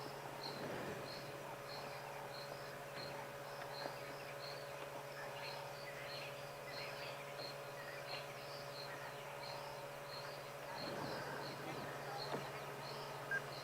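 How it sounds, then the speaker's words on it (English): Insects buzz and frogs call steadily through a warm sunset in the African bush, a continuous dense chorus with a low constant hum beneath, faint and evenly spread with occasional nearer clicks. "This golden light, the sunset, insects and frogs starting to call."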